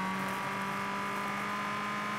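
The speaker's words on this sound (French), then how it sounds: "vous entendez le petit bruit qui pète là à chaque fois que mon pot d'échappement fait des petites flammes" A rally car in the WRC 2 video game drones steadily at constant revs, its engine tone continuous and loud, with the small exhaust pops that come with flames only faintly distinguishable.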